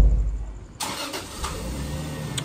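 A Toyota Crown car engine fires up after a quiet moment, then runs steadily at a mid-pitched idle and drive, close and fairly loud, with no talk.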